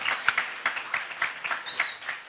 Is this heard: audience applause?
yes